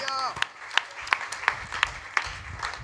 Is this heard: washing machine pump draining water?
no